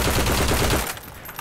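Rapid automatic gunfire in the World War II shooter Heroes & Generals, a loud close burst of shots for most of a second that cuts off into a fading echo, with no voices.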